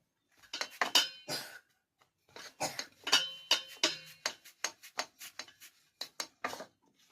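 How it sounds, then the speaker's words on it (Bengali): Paratha dough made for potato parathas is rolled out with a rolling pin, giving a close series of rhythmic wooden clacks and rubbing strokes, with a short pause partway through. "এরপরে এক এক করে এগুলো সব বেলে নেব একটু মোটা মোটা করে বেলবো"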